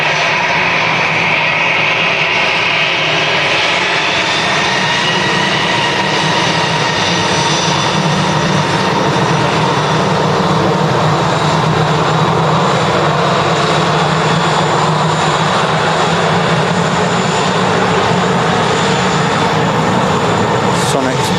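Airliner taking off from runway 23 right at Manchester Airport, bound for Antalya: a long, loud, steady jet engine roar that builds and holds, with people talking over it throughout.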